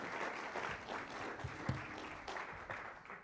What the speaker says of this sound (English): We have a round of applause for Hannah to thank her for that.